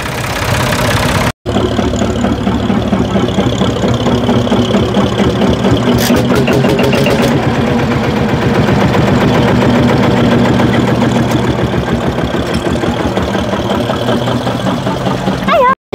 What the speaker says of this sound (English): Is that a little three-cylinder diesel?